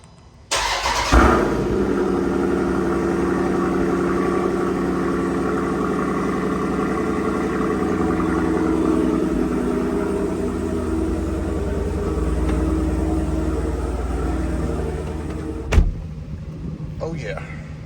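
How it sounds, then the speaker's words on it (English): A 2022 Dodge Durango SRT 392 with a Borla exhaust cold-starts with a sharp, loud bark. It settles into a deep, steady idle rumble for about fifteen seconds before it cuts off abruptly. "I got the Borla exhaust on here."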